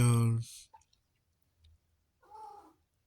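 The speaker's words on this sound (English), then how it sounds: "My cat's here." A cat gives a loud, close meow at the start, followed by faint clicks and a soft, shorter cat call near the end in an otherwise quiet room.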